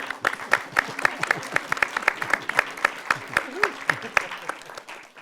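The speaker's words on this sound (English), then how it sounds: "I think that deserves a round of applause" An audience at a documentary sound masterclass applauds an Oscar-winning sound designer with brisk, steady clapping from a modest crowd, and a voice speaks briefly over it.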